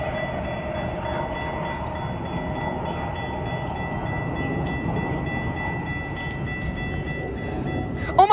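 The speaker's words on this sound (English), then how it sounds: "we got an inbound Metra train here in a blizzard at Deerfield" An inbound Metra commuter train with a trailing locomotive rumbles steadily past at Deerfield during a blizzard, wheels and engine droning close by for several seconds, with a brief horn-like tone at the very end.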